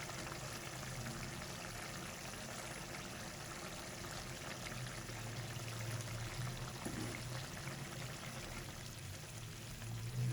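About 125 grams of yogurt poured into a pan over a low flame, giving a steady, soft trickling pour that runs evenly for about ten seconds over a low background hum.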